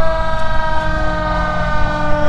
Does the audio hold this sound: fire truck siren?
yes